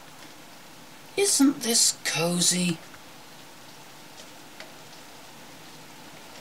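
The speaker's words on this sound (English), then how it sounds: "it's clouded up, it started raining" Rain falls steadily outside while someone is indoors, a soft continuous hiss running through the whole stretch. A person speaks briefly over it near the start.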